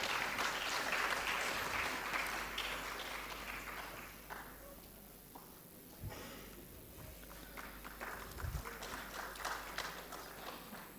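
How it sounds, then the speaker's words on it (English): Applause from a seminar audience, dense at first, then thinning into scattered claps before swelling again, with some faint murmuring. "Can we have a round of applause,"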